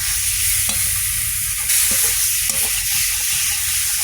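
Garlic fries in hot oil in a pan, a continuous loud sizzle with a few brief stirring clatters over the short stretch.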